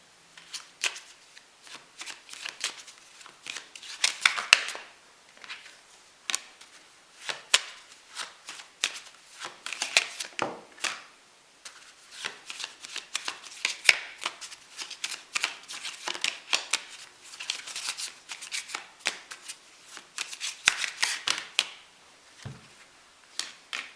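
A Sweet Blossom Lenormand card deck being shuffled by hand during a psychic reading: repeated close, crisp bursts of cards riffling and slapping together in uneven rhythm for about twenty seconds, with no voices.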